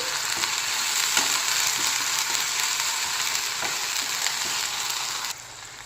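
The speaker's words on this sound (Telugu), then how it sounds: "ఇప్పుడు ఇందులో ఒక టేబుల్ స్పూన్ అల్లం వెల్లుల్లి పేస్ట్ ఇది కూడా పచ్చివాసన పోయేంత వరకు ఎంచుకోవాలండి" Ginger garlic paste sizzles steadily in hot oil with onions for a restaurant-style Andhra prawn fry, a dense continuous frying hiss with a few soft stirring clicks, close and fairly loud, with no talking.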